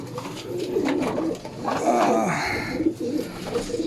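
Racing pigeons back from a training toss coo in low, repeated throaty phrases, close and fairly loud, with rustling and soft voices in the background.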